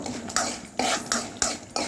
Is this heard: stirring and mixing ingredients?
yes